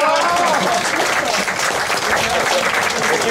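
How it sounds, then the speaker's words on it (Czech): A bowling awards ceremony audience breaks into steady, dense applause for a prize winner, sustained and fairly loud throughout, with a voice faintly audible beneath the clapping. "tomu určitě zatleskáme"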